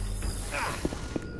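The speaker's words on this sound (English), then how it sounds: "Reloading!" A weapon reload in Left 4 Dead 2, with a few quick mechanical clicks and clacks of the gun's mechanism over a steady background hum, close and moderately quiet.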